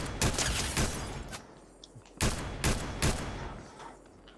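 Gunfire in Fortnite, a series of loud close shots in quick clusters with short gaps between them, each ringing out briefly, with no talk.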